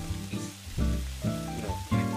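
Bacon sizzling and frying in a cooking video game, a continuous crackling sizzle with game sound effects pulsing beneath it.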